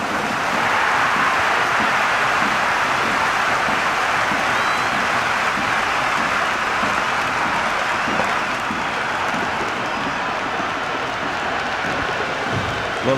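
Stadium crowd noise in the cricket video game Cricket 26, a dense continuous roar of cheering and applause that stays loud and steady throughout, with no clear talking.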